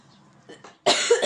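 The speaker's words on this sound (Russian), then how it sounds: "Прям вот ужасно кашляю" A woman coughs hard and hoarsely close by, a couple of faint breaths first, then a loud burst of harsh coughing.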